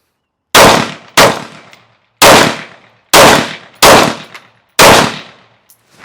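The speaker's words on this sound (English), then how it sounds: "And I shot the first target twice." Six sharp, loud pistol shots from a PSA Dagger Compact fired at targets, spaced irregularly over several seconds with a quick pair early on, each crack decaying briefly with no talk.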